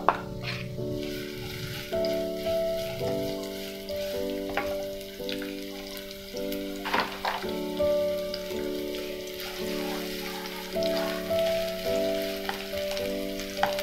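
Sliced shallots frying in hot oil for beef stir-fry, a steady crackling sizzle throughout with soft stirring, under a sustained tonal background like music.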